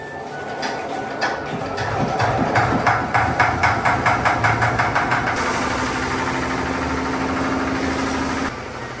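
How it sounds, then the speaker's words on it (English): A maize grinder powered by electricity or diesel mills dry kernels into fine flour, with a loud, continuous mechanical drone and a run of rapid rhythmic knocking partway through. "The maize is fed through the grinder that is powered either by electricity or diesel"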